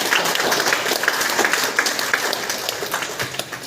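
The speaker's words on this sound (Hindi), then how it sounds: "इस बच्ची के लिए जोरदार तालियां हो" Applause for a girl at a school parents' meeting, a steady mass of clapping from the gathered parents that runs throughout at moderate loudness with no pauses.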